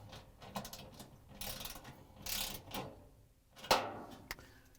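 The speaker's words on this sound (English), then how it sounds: "Then we can use the ratchet with the 1/4 inch socket to put the screw in." A ratchet fitted with a 1/4 inch socket clicks faintly in short bursts while a screw is driven in on a GE dryer high limit thermostat repair, the close ticking separated by quiet gaps.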